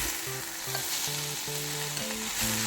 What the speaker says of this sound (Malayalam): നമ്മൾ ഈ മസാല എല്ലാം കൂടെ തേങ്ങ ചേർത്തത് എല്ലാം കൂടെ ഒന്ന് നന്നായിട്ടൊന്ന് മിക്സ് ചെയ്യാം